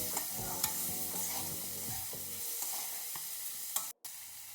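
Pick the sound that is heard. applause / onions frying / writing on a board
onions frying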